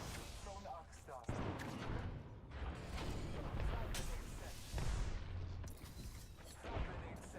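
Video game combat with bursts of gunfire, explosions and mechanical clatter in a dense, continuous mix, while a voice speaks over the action.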